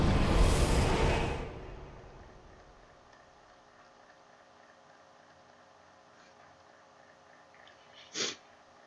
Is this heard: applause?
no